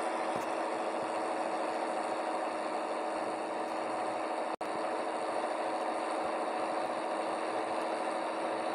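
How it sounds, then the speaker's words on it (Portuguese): Steady, loud engine drone of a heavy Volkswagen cargo truck in World Truck Driver Simulator with the engine brake engaged, a constant rumble with a brief dropout midway. "Ligar o freio motor."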